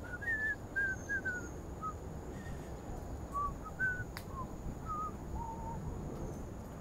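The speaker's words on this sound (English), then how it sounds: "Big birds." Large birds call outdoors on a clear morning in Hong Kong, giving a series of short, separate hooting and cawing notes spaced across the scene, fairly distant over a steady low background hum.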